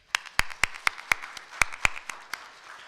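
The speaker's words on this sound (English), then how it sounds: "Can we give them applause?" A few people clap at a presentation event, with sharp separate hand claps falling in a loose, irregular rhythm, close and moderately loud, thinning out toward the end.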